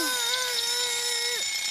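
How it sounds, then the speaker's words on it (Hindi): A cartoon alarm clock gives off a steady electronic tone with a faint shimmer in the background, holding level for over a second before ending in a quick downward swoop. "ये मेरी अलार्म क्लॉक है।"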